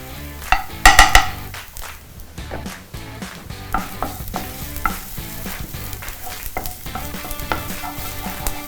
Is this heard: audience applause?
no